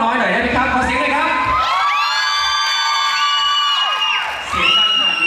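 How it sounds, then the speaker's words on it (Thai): A fan club crowd cheers and shouts with high, whooping voices, rising in bursts and sustained screams at close range, with loud waves of excitement across the whole stretch. "อยากฟังเสียง แฟนคลับของกระรอกน้อยหน่อยได้ไหมครับขอเสียงหน่อยครับ"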